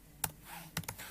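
Three quick keystrokes on a computer keyboard, crisp and close, tapping out a prompt with a brief pause between the first press and the final pair.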